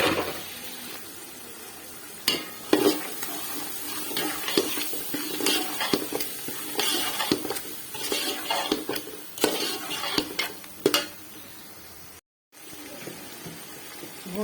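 Peas frying in masala in a pan sizzle steadily while being stirred, with repeated scraping clatters of the spoon close by and a brief gap near the end.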